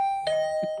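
A doorbell chimes in the video game The Hundred Line: Last Defense Academy, a clear sustained electronic ding tone followed by a couple of short softer notes, close and alone with no speech.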